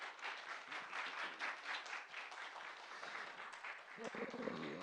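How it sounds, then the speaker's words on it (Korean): Applause from an audience at a business analysis competition after a team's presentation, a quiet, distant patter of clapping that carries on steadily, with a voice briefly heard near the end. "여러분 큰 박수 부탁드리겠습니다"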